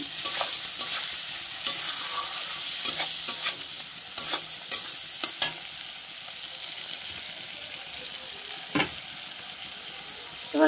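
Chopped tomato fries in a fish curry masala for a lote fish dish. A steady close sizzle runs throughout, punctuated by repeated spatula scrapes and stirring knocks, with no voices.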